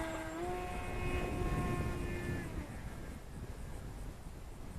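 A Volantex Ranger G2 RC FPV sport glider flies overhead with a whining electric motor that holds a steady tone, then fades and drops away, leaving faint wind-like noise.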